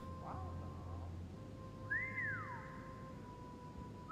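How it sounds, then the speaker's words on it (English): A character in the video game The Council whistles a single rising-then-falling note, clear but fairly soft over a steady low background hum, with no talk. "He's whistling."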